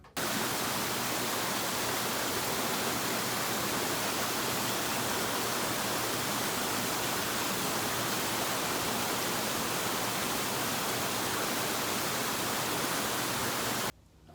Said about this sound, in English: Took it for a drive up the mountain and saw this cool waterfall.